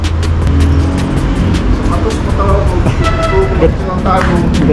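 A car drives along, heard from inside the cabin as a loud, continuous engine and road rumble, with a person talking over it throughout.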